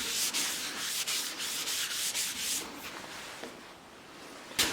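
An abrasive is worked over a large turned wooden salad bowl, giving a close, steady rubbing hiss in repeated strokes that fades a little near the end before one last brief scrape.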